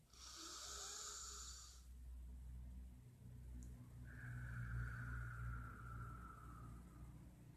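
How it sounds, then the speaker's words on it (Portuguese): Slow, deep breaths, each long inhale or exhale drawn out over a few seconds with a hoarse, airy rasp, close to the microphone. "você vai respirar de maneira bem profunda e lenta, enchendo seu abdômen de ar"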